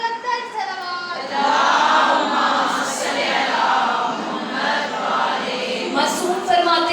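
A women's majlis congregation in Lahore loudly recites salawat together, a sustained chorus of many voices that swells after a brief lead-in voice.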